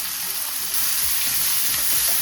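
Chopped onions and green chillies fry in hot oil for chicken fried rice, a steady, close sizzle with a few soft stirring knocks and no talking.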